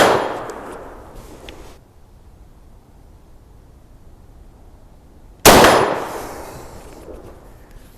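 Henry 015-223 single-shot rifle fired at an AR600 steel target outdoors: one loud sharp report with a decaying ring, a quiet pause, then a second close, loud shot ringing out.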